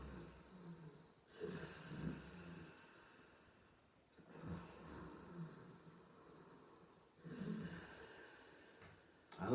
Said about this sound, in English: It's like a snoring type noise